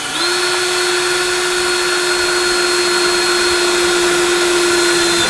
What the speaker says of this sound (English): So we're going to rivet this one